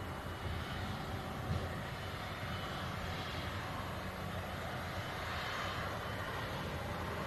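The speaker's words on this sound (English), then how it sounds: "There's that Virgin A330 taxiing in." A Virgin Atlantic Airbus A330 airliner taxiing in at an airport, its engines a steady, broad, rumbling whine that holds evenly throughout at moderate distance, with no talk.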